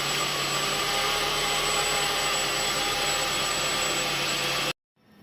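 A Ford Zetec 1800 engine converted to motorcycle carburettors runs steadily while warming up, a loud, even, buzzing roar close by that holds for several seconds and then cuts off abruptly.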